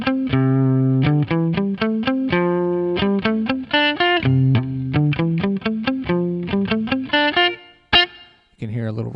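An electric guitar played through a DigiTech RP1000 patch set to mimic a vintage Dynacomp compressor plays a run of crisp, evenly compressed picked notes with light reverb, closing on a sustained chord and a final strum.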